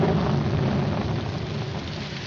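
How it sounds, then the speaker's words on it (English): Steady heavy rain with a low rumble of thunder underneath, a dense continuous wash with no voices. "It's going to rain."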